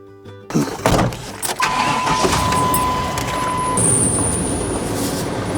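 A farm service truck engine cranks and fires up nearby, a loud burst of starter and ignition noise settling into a steady running idle with a faint whine, heard alone without talk.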